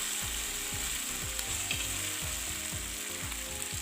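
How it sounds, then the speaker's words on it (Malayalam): Large cauliflower pieces fry in a pan with little or no oil, giving a steady close sizzle broken by repeated rhythmic scraping and clicking as they are stirred. "ഇടയ്ക്കിടയ്ക്ക് ഓരോന്ന് ഇളക്കി കൊടുക്കണം, കരിയാതെ തന്നെ നമ്മളിത് ഫ്രൈ ആക്കി എടുക്കണം"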